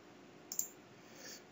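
A single soft mouse click on an OK button during a PHPUnit setup for Joomla 3.0, one brief quiet tick over faint room hiss.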